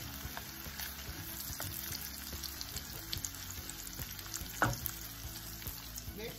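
Canned corn with a little onion simmering in a pan, a steady low crackle and sizzle that continues throughout, with one brief louder clatter near the end and no voices.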